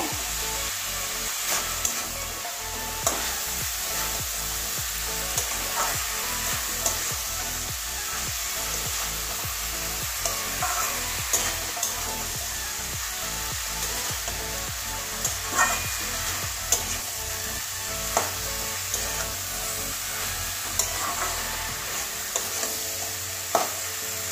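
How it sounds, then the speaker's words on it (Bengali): Soybean chunks stir-fried in a pan with boiled cabbage and potato, giving a steady sizzle under repeated scraping strokes of a spatula throughout, close and fairly loud, with no talking. "এবারে সিদ্ধ করে রাখা বাঁধাকপি আলু দিয়ে দিচ্ছি। আবারও সবগুলো একসঙ্গে কষিয়ে নেব।"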